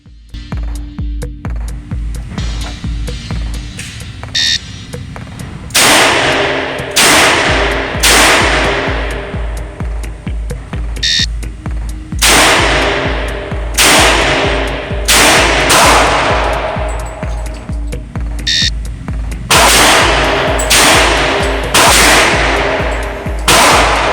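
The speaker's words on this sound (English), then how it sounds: "Conduct an empty gun reload with a minimum of 2 rounds and fire both for a total of 5 rounds in 12 seconds" Loud Colt MKV Trooper revolver shots ring out at a shooting range in several quick bursts separated by pauses for reloading, each report sharp and ringing, with faint clicks and handling noises between strings.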